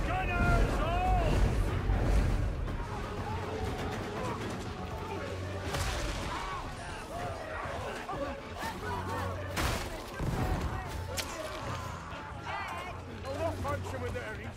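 Ship cannons fire in ragged volleys during a naval video game battle, sharp booming blasts scattered over wind and sea noise, with a voice talking over the action.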